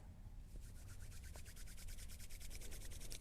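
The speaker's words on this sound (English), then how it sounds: "Rub your hands" Palms rubbing briskly together in a quiet yoga studio as a class sits up, a steady rapid swishing friction that runs the whole moment at low volume with no talking.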